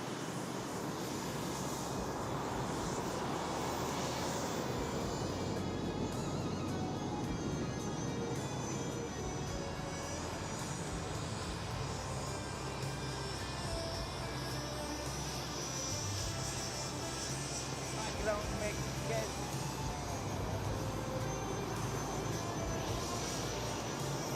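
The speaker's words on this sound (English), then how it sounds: "it is also time for that wonderful performance by the mighty Sukhoi 30 MKI" Sukhoi Su-30MKI fighter jet at the Aero India 2021 flying display, a continuous broad roar of jet engines with a faint high whine, steady and fairly distant throughout.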